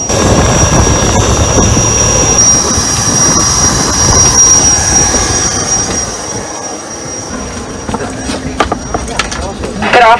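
Small passenger jet engine on a short airline flight to Walvis Bay, Namibia: a loud, steady broadband roar throughout, easing slightly toward the end, with faint talk and cabin noise underneath.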